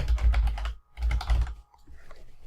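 Keys on a computer keyboard tapped in two quick bursts of typing, near and moderately loud, followed by a few lighter scattered taps and mouse-like clicks; no voices.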